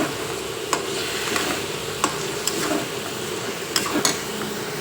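Rice and mung dal are stirred with spices in a pan for khichuri, giving a quiet sizzle under several sharp spoon taps and scrapes against the metal.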